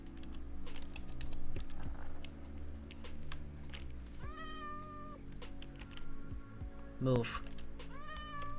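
A cat meows several times in a block-building video game, synthetic-sounding rising calls set against a busy bed of keyboard typing, background game noise and a person talking.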